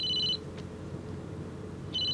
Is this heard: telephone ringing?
yes